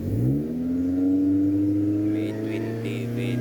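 Honda VTEC engine in an EG hatchback revs up, a rising whining drone that climbs then holds steady, with some clatter near the end.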